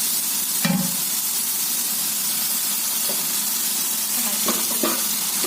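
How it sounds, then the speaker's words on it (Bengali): Masala for a soybean curry sautés in a hot pan with a continuous close hiss and sizzle, broken by a few brief scraping stirs of the spoon. "সুন্দর করে মশলাটা কষিয়ে নিতে হবে"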